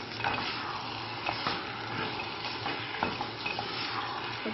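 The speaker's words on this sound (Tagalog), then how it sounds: "mix natin" A spoon works through stuffed zucchini filling with salt and tomato in a pan, making soft, steady stirring scrapes and light clinks over a quiet, low sizzle.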